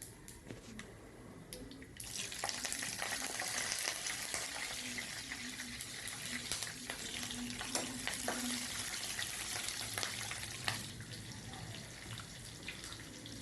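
Green chilies frying in a pan make a continuous hiss and sizzle that swells after the first couple of seconds and stays dense and close, with light stirring clatter and occasional bursts.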